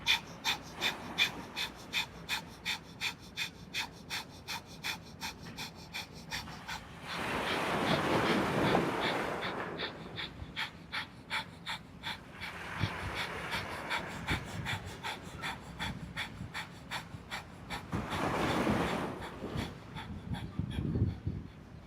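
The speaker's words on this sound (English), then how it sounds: "Listen to that breath moving in and out." Breath of fire during yoga on a beach on Catalina Island: rapid, rhythmic puffs of breath through the nostrils pulse steadily for a long stretch, broken by a few longer, louder rushing breaths. Close and clear, with no talking.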